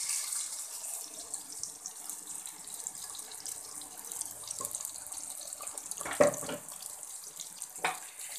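Tap water runs steadily into a mixer jar in a home kitchen, a soft continuous splashing stream with a couple of brief louder sloshes near the end, no talking.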